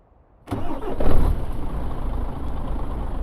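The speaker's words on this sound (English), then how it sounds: "We'll start it up." A Mercedes Actros truck engine in Euro Truck Simulator 2 starts after a moment of silence, catching loudly and close, then settling into a steady rumbling idle.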